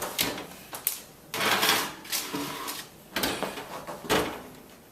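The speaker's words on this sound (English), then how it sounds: "So I'm just going to stick these on the middle rack in the oven." A cookie sheet of Caribbean coconut mango cookies slides onto the middle rack of an oven heated to 375 degrees, with a run of metallic clanks, scrapes and rattles from the rack and oven door, fairly close.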